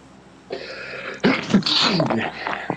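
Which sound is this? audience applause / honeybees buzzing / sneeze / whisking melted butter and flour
sneeze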